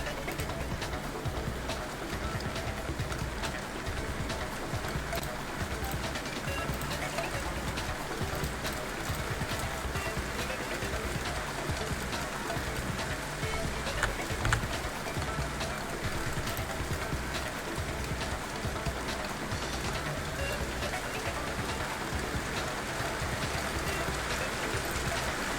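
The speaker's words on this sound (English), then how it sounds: "Oh, it's starting to rain." Steady rain in Danganronpa Trigger Happy Havoc, a dense continuous hiss of falling drops at an even level throughout, with no clear talk.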